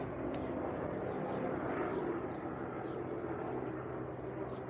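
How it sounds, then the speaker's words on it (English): An airplane passes overhead, heard as a steady, broad rumbling drone that holds at an even level throughout, somewhat distant, with no voices over it. "can you guys hear that airplane"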